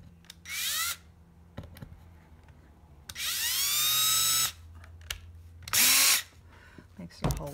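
A cordless power drill starts a pilot hole in a wooden picture frame, whirring loudly in three separate bursts of rising pitch, with handling clicks and knocks between them.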